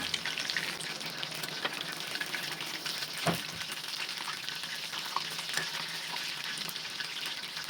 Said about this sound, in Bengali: লাল লাল করে ভেজে নিতে হবে চিকেনটাকে